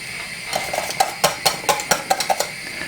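Spoon scraping and clinking against a pan while arrowroot mixture is stirred into vegan lemon curd, a run of close, regular taps and scrapes, no talking.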